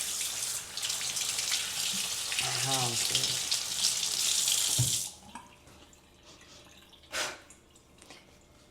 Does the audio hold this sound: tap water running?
yes